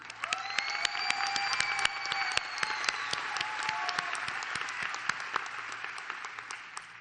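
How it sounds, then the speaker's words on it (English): A crowd at the 2024 Seminole Ridge Community High School graduation ceremony claps for the teachers, sustained moderately loud applause with a few scattered cheers and sharp individual claps standing out. "Let's please have a round of applause for them."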